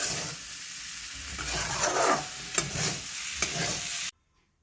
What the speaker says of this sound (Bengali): এটা আরেকটু ভাজা হবে।